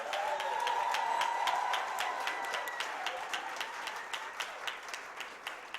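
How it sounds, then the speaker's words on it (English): Audience applause for a steel drum band at a Black History Month celebration, with a sustained tone ringing over the start; dense clapping from a crowd that thins into scattered, distinct claps toward the end. "Give the Marshall Band, Steel Drum Band, another round of applause,"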